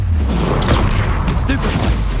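Confringo fire-blast spell in the Hogwarts Legacy video game bursts loudly amid a busy combat mix, a couple of sharp whooshing blasts over continuous low rumble.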